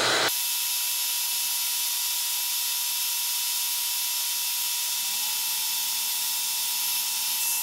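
A heat tool melts clear embossing powder with a steady, loud airy hiss and hum. The sound runs unbroken from start to end, with a slight shift in tone partway through.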